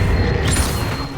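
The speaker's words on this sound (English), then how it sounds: "Accio." An Accio summoning spell in Hogwarts Legacy gameplay sounds as a loud, dense magical whoosh with mechanical rumbling and a creaking sweep, steady and full over about a second.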